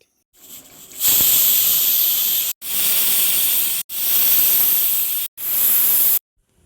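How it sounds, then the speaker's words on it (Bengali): Pressure cooker cooking goat meat on high heat, releasing loud close bursts of hissing steam, four long whistles separated by short silent gaps, with no talk. "এখন পাঁচটা সিটি মেরে নেব বাস পাঁচটা সিটি মেরে নিলেই কিন্তু আমার রান্না একদম কমপ্লিট"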